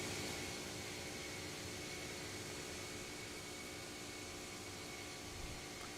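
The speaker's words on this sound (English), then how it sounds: "It's a loud airplane." A loud airplane drones steadily and close, its broadband engine roar holding constant with a faint tonal hum for the whole stretch, no talking heard.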